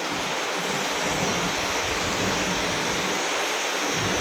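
Fast-flowing shallow river water rushes past someone bathing in it, a dense, steady roar of churning water that stays loud and close throughout, with no voices.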